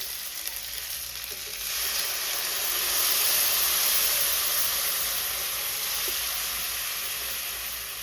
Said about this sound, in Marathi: आता माझी फोडणी झाली आहे. मस्त लाल फोडणी झाली. आता मी वाटाप ओतते.